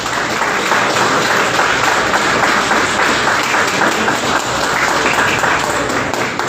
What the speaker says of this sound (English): So we have a round of applause for all of them